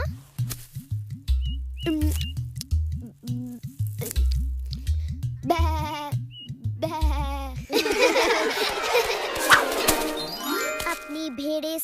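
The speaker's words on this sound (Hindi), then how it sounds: "अपनी भेड़ें संभालो श्रीधाम। मेरे जैसे चोर से इन्हें बचाना असंभव है।" Cartoon sheep in a Hindi Little Krishna animation: repeated short bleats mixed with tinkling jingles and bright chime notes, building into a busier, louder musical passage with a childlike voice partway through.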